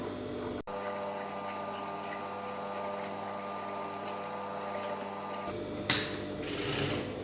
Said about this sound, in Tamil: இப்போ லைனிங்கில் வச்சுட்டு ப்ளவுஸ் துணி வச்சுட்டு அப்படியே வந்து தையல் அடிச்சிட்ருக்கோம்